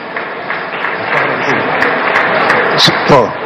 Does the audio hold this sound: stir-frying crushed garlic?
no